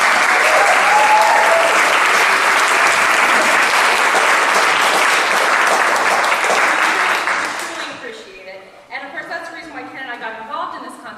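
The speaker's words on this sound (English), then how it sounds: "let's give them a round of" Audience at a songwriter contest final show breaks into loud, sustained applause that fades out near the end, followed by a voice speaking at a lower level.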